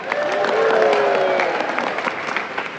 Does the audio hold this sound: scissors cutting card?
no